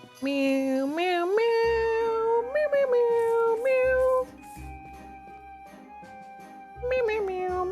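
A person imitates a cat with a string of drawn-out, whiny meows that slide up in pitch. The voice is close and loud, with a short lull before a final call.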